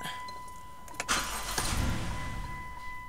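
A car engine with 44,000 on the odometer and its oil change overdue cranks and catches, then settles into a steady, whiny running tone that holds close and fairly loud to the end.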